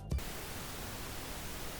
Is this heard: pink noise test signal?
yes